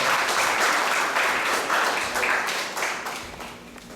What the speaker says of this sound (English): Let's give a big round of applause for all the Kirtaniyas for this charity.